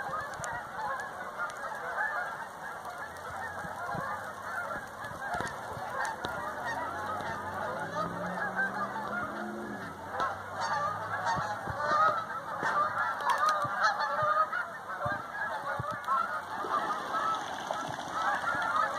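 Canada geese honk repeatedly at a conservation area where mallards and common mergansers are also present, the calls carrying at moderate distance over a steady background hiss, growing busier toward the end.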